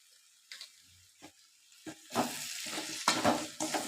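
Ivy gourd (kovakkai) is sautéed and stirred in a pan, with a few faint clinks at first before a louder sizzle and stirring scrapes build up in the second half.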